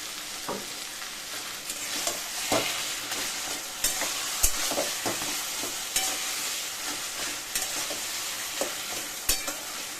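Taro greens being stirred in a pan as mustard oil goes in, with a steady soft sizzle and repeated scraping strokes of a spatula, close and fairly quiet, no talking.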